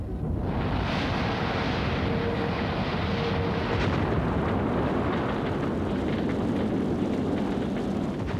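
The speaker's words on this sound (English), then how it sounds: "our slow-motion camera records how an undetected fault in the first stage of the rocket turned the launching into calamity" A Vanguard rocket failing at launch, its first stage exploding: a loud, continuous roaring rumble that swells suddenly and stays heavy and broad for several seconds, with no voices.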